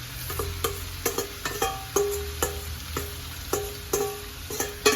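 About two pounds of seasoned ground beef added to a hot pot for Jamaican-style lasagna, sizzling steadily while a utensil clanks and scrapes against the pot in a quick irregular rhythm, close and clear.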